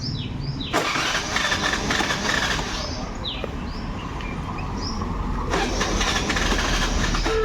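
A small scooty engine kicks into life and keeps idling with a rough, steady rumble, close by, with outdoor background noise.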